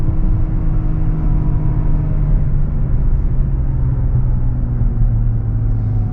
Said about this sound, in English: dive into this S-curve and downshift a little bit